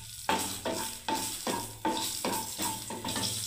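Cardamom and a bay leaf frying in oil in a pan for a simple potol sabzi, a steady close sizzle broken by repeated stirring scrapes at an even pace.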